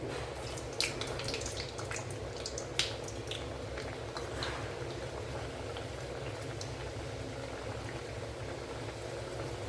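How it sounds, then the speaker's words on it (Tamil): Almond puris frying in a pan of hot ghee and oil make a steady, bubbling sizzle with scattered sharp crackles and pops, close and continuous throughout. "நெய்யும் எண்ணெயும் சேர்த்து காய வச்சுருக்கோம் இல்லைங்களா அதில் பூரிகளை போட்டு பொறிச்சிடலாம்"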